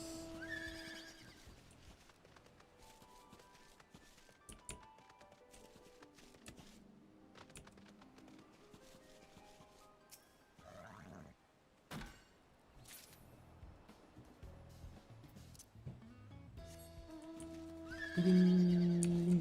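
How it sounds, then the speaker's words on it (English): A horse in Final Fantasy XIV Endwalker gives a drawn-out whinny, and hoof clip-clops and soft game sounds play faintly around it. "Horse."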